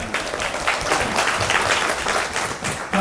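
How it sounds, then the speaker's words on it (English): A conference audience at an extensive reading congress in Seoul claps for a plenary speaker, a dense, steady round of applause close by and loud throughout. "Go ahead and give him a round of applause."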